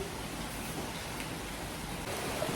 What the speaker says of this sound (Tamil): சம மழை வெளியே